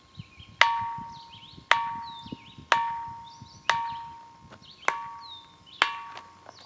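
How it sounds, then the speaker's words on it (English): A ringing rock struck repeatedly with another rock gives six evenly spaced sharp hits. Each hit leaves a clear bell-like tone that decays before the next strike. Faint background noise sits underneath. "Ross will demonstrate by picking up a rock and banging on this particular one."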